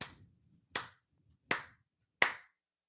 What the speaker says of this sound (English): but you can clap like this